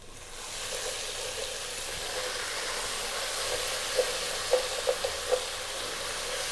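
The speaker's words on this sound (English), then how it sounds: "let's just cook this tomato puree or tomato paste out a little bit" Tomato paste sizzles and fries in a pot for a beef, eggplant and tomato stew, a steady close hiss with a few sharp scraping clicks of stirring toward the end.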